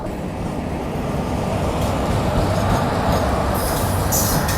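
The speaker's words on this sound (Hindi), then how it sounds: "कोई ट्रेन जो है वो क्रॉस होने वाली है, वो आ रही है।" A Jan Shatabdi express train running from Madgaon to CSMT with a Vistadome coach roars past close by, a loud continuous rumble of wheels and carriages with rising metallic squeal toward the end, with no speech.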